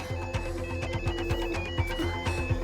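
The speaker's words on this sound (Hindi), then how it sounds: "मेरा फोन बजा।" A telephone rings with a steady electronic trill, moderately loud, repeating over a low background hum.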